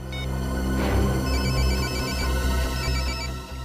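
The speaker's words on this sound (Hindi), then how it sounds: "घंटी तो बज रही है और आवाज भी आसपास से ही आ रही है।" A mobile phone rings nearby, a steady electronic ringtone melody repeating loud and continuous, with no talking over it.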